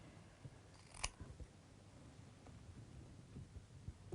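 Scissors snip a few times, faint and close in a quiet room, with one sharper cut standing out among soft scattered clicks.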